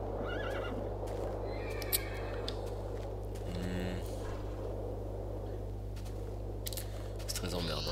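Horses in a Minecraft-style video game whinny and neigh repeatedly over steady background music, with hoof clip-clop sounds, fairly loud and close.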